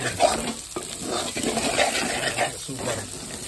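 Potatoes frying in a pan for chole masala give a steady bubbling sizzle close by, with light stirring scrapes, and a voice talks faintly underneath.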